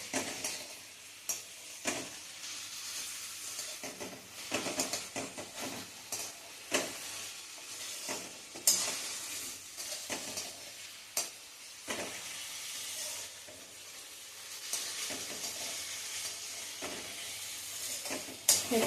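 Sweet potato sautéing in a hot pan for a fasting-style sheera, a steady close sizzle broken by repeated scraping stir strokes of a spoon against the pan.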